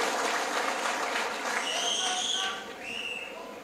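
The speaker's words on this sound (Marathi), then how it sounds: "जोरदार टाळ्या वाजून आपण त्यांचं अभिनंदन करूया." A crowd at a political party rally claps together, a dense wash of applause running steadily, with a voice rising over it and the clapping thinning toward the end.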